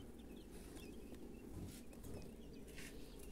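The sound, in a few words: newly hatched quail chicks under heat lamp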